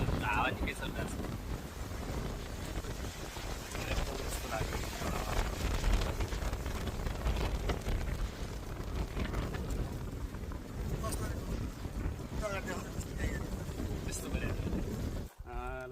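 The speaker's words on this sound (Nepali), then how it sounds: "हावा निकै चलिरहेको छ।" Strong wind blows outdoors near a hilltop temple, roaring and buffeting the microphone in a continuous dense rush for the whole stretch, with a voice faintly beneath it.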